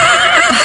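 A horse whinnies loudly and close by in a steady, sustained call with no talking over it, heard at night in a rural setting.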